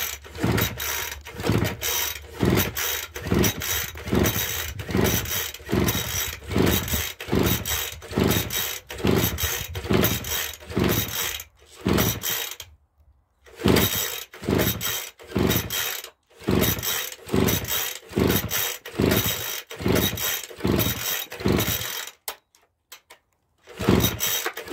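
A Craftsman gas leaf blower is repeatedly pull-started, giving a rhythmic series of ratcheting recoil pulls in steady bursts, with two brief pauses between runs and no engine catching.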